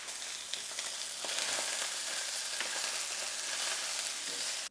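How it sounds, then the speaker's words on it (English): Salmon frying in a pan gives a dense, steady sizzle with faint crackles, even and close throughout, then cuts off abruptly at the end. "just let's work away with the salmon and make sure that cooks perfectly"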